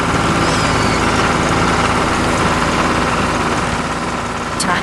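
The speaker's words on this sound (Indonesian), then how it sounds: "Traktor merah sedang menggarap tanah kering dengan alatnya." A heavy diesel tractor engine runs steadily nearby while tilling dry soil, a constant low rumble with vibrating drone and no breaks.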